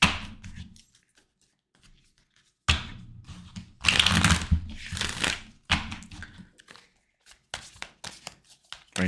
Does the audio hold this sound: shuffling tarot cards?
yes